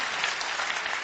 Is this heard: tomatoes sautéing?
no